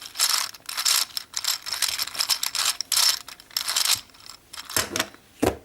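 A Rubik's gear cube puzzle being scrambled, with quick clicking, ratcheting plastic turns coming in dense irregular bursts, close and fairly loud, and a few sharper clacks toward the end.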